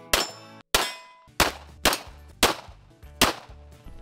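Six sharp, loud pistol shots from a SIG 1911 Ace ring out at an indoor gun range, spaced roughly half a second apart, each cracking with a metallic, reverberant tail.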